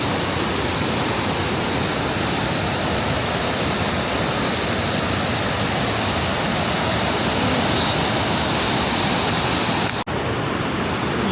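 Loud, steady roar of rushing water at Niagara Falls, a dense, unbroken wash of sound close by with no voices, holding constant throughout apart from one brief dip near the end.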